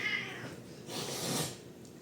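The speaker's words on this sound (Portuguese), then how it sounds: "Tira esses gatos daqui, fazendo favor." Cats meow and squall quietly at a distance indoors, a thin drawn-out cry followed by a rougher, louder yowl, faint against a hissy background.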